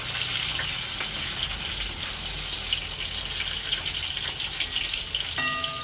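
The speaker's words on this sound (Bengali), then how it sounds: "আলুগুলোকে একটু লাল লাল করে ভেজে নেবেন।" Potatoes frying in oil for chicken biryani, a dense, even sizzle that stays loud and close throughout with a few faint scrapes, and a brief tonal beep near the end.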